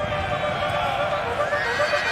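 Elite British Dragoon Guards cavalry charge in a Napoleonic-era strategy game battle, with horses whinnying over a dense, continuous roar of hooves and battle noise.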